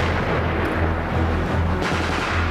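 A weapon is test-fired during a military urban-terrain combat exercise, heard as a loud, continuous, dense roar of rapid gunfire and booms that fills the whole stretch.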